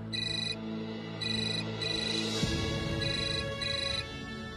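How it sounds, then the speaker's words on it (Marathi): A phone ringtone plays in repeated electronic bursts, a tonal melodic ring sounding in several separate pulses with brief gaps between them, fairly soft and alone. "विजू, बरं झालं फोन केलास."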